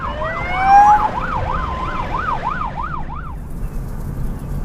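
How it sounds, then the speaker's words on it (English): An ambulance or emergency vehicle siren wails past a response vehicle on a road near the Hawkesbury River, a loud, rapidly rising and falling yelp that repeats about a dozen times over steady road noise. "there is an ambulance or emergency vehicle just about to zip past us"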